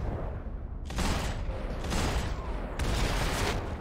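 Bursts of gunfire in the video game Max Payne 3, two or three loud volleys of rapid shots with mechanical clatter between them, no talking.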